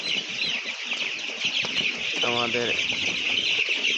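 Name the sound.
three-day-old chicks on a farm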